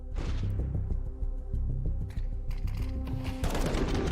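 Gunfire in CS:GO during a NaVi vs Vitality match at Blast Premier 2022, several rapid shots and bursts over game ambience, fairly faint and mixed with in-game sound effects.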